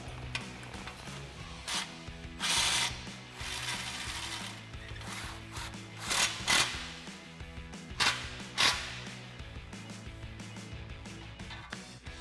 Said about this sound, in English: We're going to tighten our ball clamp up with a 13mm socket.